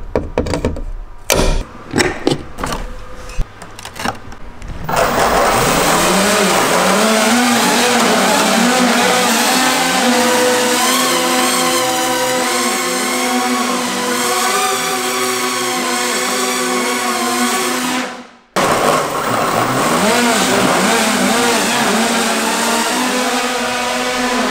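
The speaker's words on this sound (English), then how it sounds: "I don't think these motors have enough power to lift this thing up to the ground." Electric motors spinning propellers on an RC Quinjet model airplane: a few short clicks and bursts, then a loud, steady, close buzzing whine with wavering pitch that holds for a long stretch, broken once by a brief cut-out.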